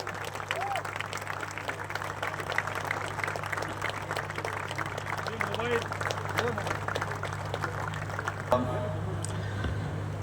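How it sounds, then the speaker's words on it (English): Dense, sustained stadium crowd applause at Wankhede Stadium during a cricket farewell speech, steady clapping over a low hum with crowd noise throughout and a brief shift near the end. "Keep the claps going, ladies and gentlemen."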